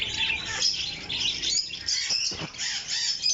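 Pet birds in a newly opened bird shop in Gujranwala, including lovebird pairs, chirp and squawk busily in a dense, continuous chorus, with a few sharper calls standing out close by.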